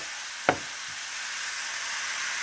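Turkey hash of leftover turkey, onions and peppers frying in butter in a pan, a steady soft sizzle running throughout with one sharp utensil knock near the start.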